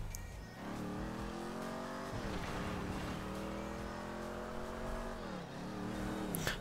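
A Mustang's engine revs hard and accelerates in GTA V roleplay, a loud, continuous roar whose pitch climbs through the gears with brief dips at each shift, heard close with no talking.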